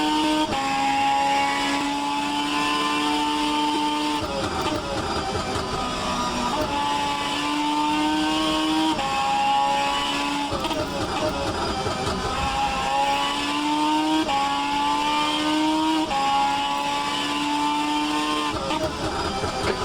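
A GT500 race car in the rFactor 2 sim laps Brands Hatch, its engine droning continuously and rising through the gears, with repeated upshift drops and re-climbs in a steady rhythm throughout.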